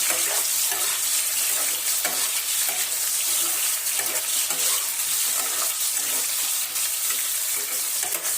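Cauliflower and peas fry in a pan with a continuous, close, crackling sizzle that holds an even level throughout, with faint stirring scrapes and no voices.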